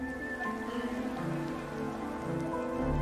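Steady rain falls and patters on surfaces throughout, a dense even hiss mixed with a low background hum and faint tonal sounds, with no talking.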